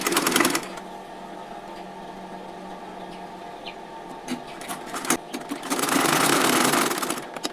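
A sewing machine stitches a blouse sleeve in bursts of fast whirring, loudest at the start and near the end, with quieter handling noises and small clicks between runs.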